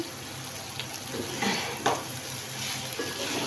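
Sliced onions sizzle in a pan while being stirred, a constant close frying hiss with a few louder scrapes and clinks of the spoon, no voices.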